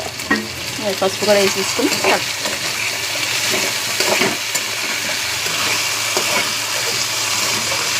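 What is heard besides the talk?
potatoes frying in a pan with turmeric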